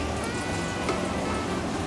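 Motor oil drizzles steadily from the drain hole of a 1990 Mazda Miata during an oil change, giving a soft, even, close-by pattering hiss like light rain throughout.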